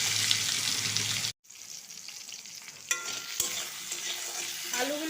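Potato pieces fry in a pan, a loud close sizzle with stirring scrapes and clinks, a short cut in the middle, then continued crackling frying with utensil knocks.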